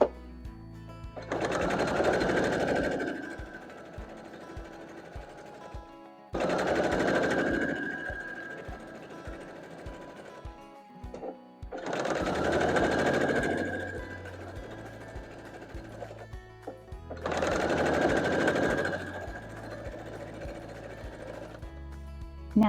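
Sewing machine stitching quilt fabric pieces together to form corner hearts, running in four long bursts of steady whirring with brief pauses between them, close and loud.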